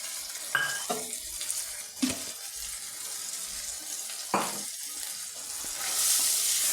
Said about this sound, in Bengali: ভালো করে মশলাটা কষিয়ে নিচ্ছি